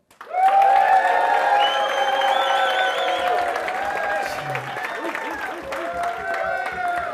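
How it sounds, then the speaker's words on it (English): An audience claps and cheers loudly for a contestant at a live event, the applause rising quickly and carrying on steadily beneath prominent music. "give her a round of applause"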